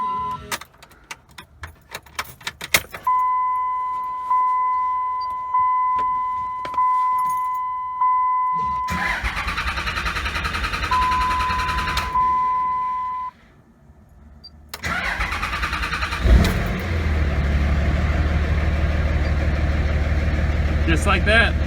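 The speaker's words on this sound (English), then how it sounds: "We'll prime it and we'll fire it up." A 2003–2007 Cummins 5.9 common rail diesel is cranked after a fuel filter change, with a priming pump's steady whine before it. The engine then catches and settles into a loud, continuous diesel rumble.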